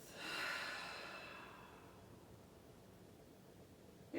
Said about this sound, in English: audibly exhale through the mouth